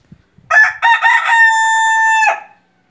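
A Polish crested rooster crows once, loud and close, a short broken start rising into a long sustained call that ends abruptly, with no talking over it.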